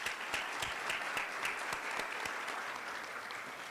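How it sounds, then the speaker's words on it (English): Applause from an audience at an academic excellence awards ceremony, a fairly quiet, steady patter of clapping with a few sharper individual claps standing out, continuing throughout. "Let's give her a round of applause."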